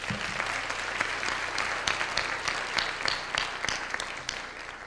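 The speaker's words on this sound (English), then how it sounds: "we'll remember him with the applause" Audience at a university memorial lecture applauding in a sustained, dense wash of many hands clapping, steady and fairly loud throughout without a break.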